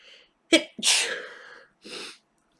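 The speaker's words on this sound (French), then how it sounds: "Je vais rééternuer." A single close sneeze with a sharp intake and explosive burst, followed by a brief breathy exhale after a short pause.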